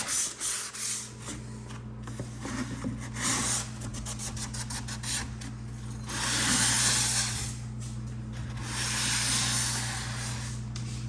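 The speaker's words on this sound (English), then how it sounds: "This is my favorite job, sanding." Hand sanding during a home renovation job, a steady rough scratching and rubbing with repeated short back-and-forth strokes, fairly close, with a low mechanical hum underneath and no talking.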